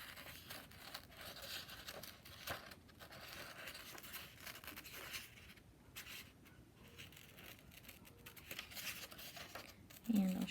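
Scissors snip through paper while cutting out paired shapes for a positive and negative space art project, a quiet, steady crinkling and scraping texture running throughout with a brief louder rustle near the end.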